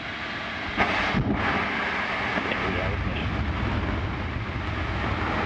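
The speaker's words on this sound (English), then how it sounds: "we have liftoff of Antares with the orbit 3 missions" An Antares rocket lifts off carrying Cygnus toward the ISS, giving a broad, steady roar with crackling rumble that swells sharply at ignition and then holds loud and continuous, with a voice speaking over it.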